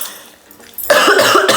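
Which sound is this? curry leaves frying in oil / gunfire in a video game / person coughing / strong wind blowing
person coughing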